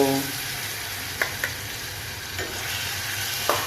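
Boiled potatoes go into a pan of hot oil with cumin and asafoetida, a steady close hiss of frying with a few faint clinks of the spoon and no talk.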